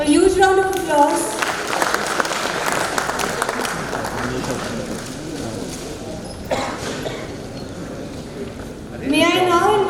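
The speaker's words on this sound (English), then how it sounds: "A huge round of applause." An audience at a Union Budget seminar breaks into a sustained round of clapping that fills the room, with a voice speaking over it at the start and again at the end.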